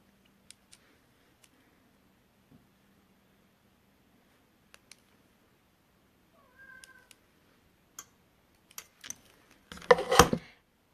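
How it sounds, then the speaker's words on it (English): A fluffy house cat meows softly a couple of times indoors, faint against near silence and scattered small ticks, followed by a louder burst of rustling handling noise near the end. "Can you hear my cat?"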